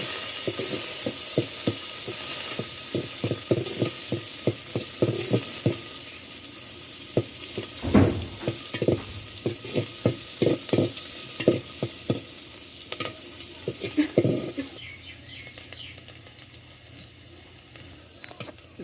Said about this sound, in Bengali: তেল দিয়ে এখন দিয়ে দেবো মরিচ পেঁয়াজ রসুন সবগুলো দিয়ে দেব দিয়ে দেখেন কত সুন্দর একটা সাউন্ড আসতেছে